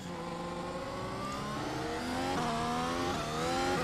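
Race car engine in the iRacing simulator on the Circuit de Catalogne, revving up through the gears in steady rising sweeps, each upshift dropping the pitch before it climbs again, loud and continuous.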